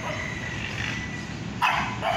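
Two dogs in the Mekong Delta countryside bark in two brief, loud bursts near the end, over steady background noise.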